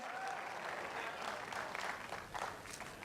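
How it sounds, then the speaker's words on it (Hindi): An audience applauds loudly and steadily at a motivational stage event, with dense continuous clapping throughout and a voice briefly audible beneath it. "आप जोरदार ताली बजाओ सर के लिए"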